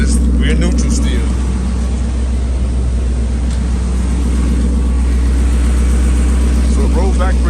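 A car engine idles in neutral on a steep incline inside a garage, a steady low rumble running throughout with someone talking over it.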